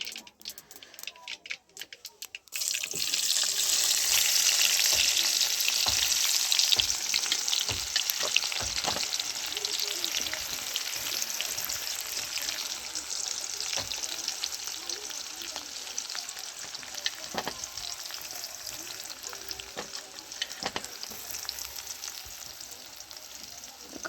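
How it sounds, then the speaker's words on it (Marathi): Onions frying in a pan with cumin seeds for khichdi, a loud continuous sizzle that starts abruptly after a short quiet moment and keeps hissing steadily, with occasional scraping stirs and clicks. "आता घेऊया कांदा टाकून."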